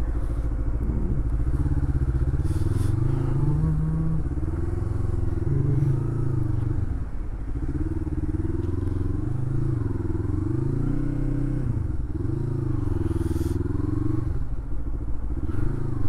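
A motorcycle rides along a road in the Korean countryside, its engine a steady, close drone that rises and dips in pitch throughout, with faint clatter and bumps from the ride.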